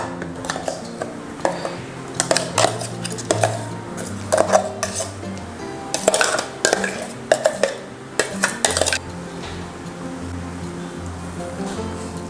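Mango paste being stirred into chopped mango in a large bowl for a mango dessert, a spoon scraping and clinking against the bowl in repeated bursts with soft wet mixing between, no talking.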